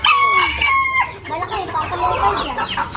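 A rooster crows loudly and close at the start, followed by a run of busy clucking and fowl chatter with faint voices in the background.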